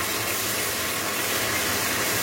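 Steady rushing of water pouring into a cooking pot of chickpea pulao, a continuous bright hiss with no pauses, close by.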